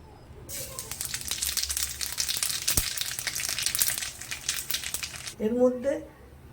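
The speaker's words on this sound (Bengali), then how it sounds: "তেলটার ভেতরে কালো জিরে ফোড়ন দিয়ে দিলাম।" Nigella seeds hitting hot oil for a pomfret curry, in oil just used to fry the fish: a loud, close, crackling sizzle with a sharp pop, fading before someone briefly speaks.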